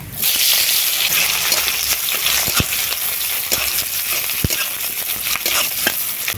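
Whole dried red chillies, whole cumin and onion fry in the oil left from frying greens stalks, for a Malabar spinach and Bombay duck dish. A loud, steady sizzle runs throughout, with occasional sharp clinks of stirring.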